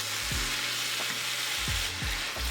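Chives stir-fry in hot oil with a dense, constant sizzle at close range, broken by a few quick scraping tosses of the spatula.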